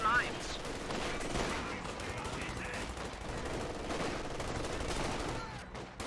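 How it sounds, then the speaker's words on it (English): A German MG42 machine gun chatters in Company of Heroes 2, dense continuous bursts mixed into the busy battlefield din of other gunfire and explosions, with game voices faintly underneath. "MG42 now firing away."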